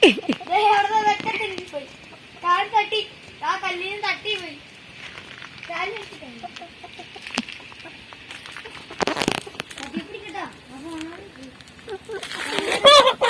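A chicken in a village home yard clucks and squawks in bursts while being chased and caught, mixed with children's voices, laughter and shouting; the cries come in short, agitated volleys at close range.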